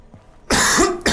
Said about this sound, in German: Ich muss wieder husten